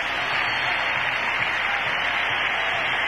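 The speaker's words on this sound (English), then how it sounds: "listen to the crowd" A football stadium crowd roars steadily during a 1980 Saints versus Bears NFL game after a touchdown run, a dense, sustained wash of cheering that stays loud and even throughout without clear individual voices.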